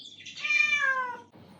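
A pet cat lets out a single drawn-out meow, close and clear, followed by a brief quiet rustle.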